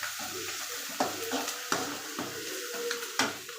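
Food frying in a pan while being stirred, a constant sizzle broken by several distinct scraping strokes of the spoon against the pan, close and fairly loud.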